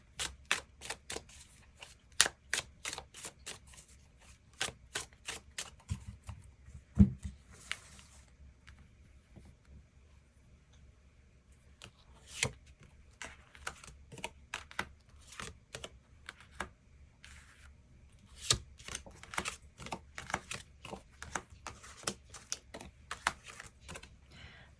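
Tarot cards shuffled close by in bursts of quick, crisp papery clicks and riffles, with short pauses between runs; no one speaks.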